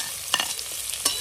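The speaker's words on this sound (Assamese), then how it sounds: "তেল এতিয়া প্ৰথমতে পিঁয়াজ পৰিছে" Onions dropped into hot oil in a new wok sizzle with a soft steady hiss, broken by a few sharp crackles and spatters, close and fairly quiet.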